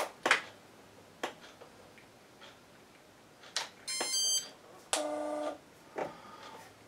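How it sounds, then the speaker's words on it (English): Electronic buzz from an IBU board as it reads the receiver during a function test, two short bursts a second apart among faint clicks and taps, near and moderately loud with no talk. "The buzzing sound tells you that the board is reading the receiver."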